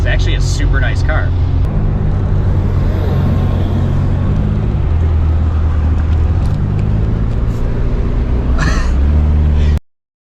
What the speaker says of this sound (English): it's just idling normal right now